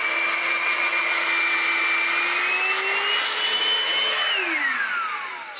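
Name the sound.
Vytronix NC22 cordless vacuum cleaner running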